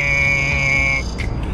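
A person hums a buzzy, brassy tone in imitation of a trumpet, holding one steady note for about a second before it breaks off.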